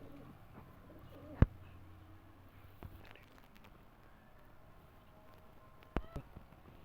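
Teddy pigeons coo softly and low at a sale in Lahore, faint murmuring calls under a quiet background, with a couple of sharp clicks or knocks nearby.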